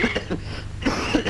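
A man coughs several times in quick succession, dry and close, while he has a cold, after being out in the rain.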